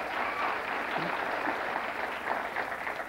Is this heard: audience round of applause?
yes